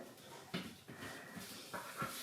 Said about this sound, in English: I'm moving because I've got dog on my head.